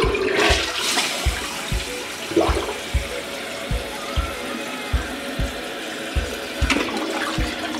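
A toilet that won't flush properly, though not clogged, flushes with water rushing and gurgling steadily, with a regular series of low knocking thumps running underneath throughout.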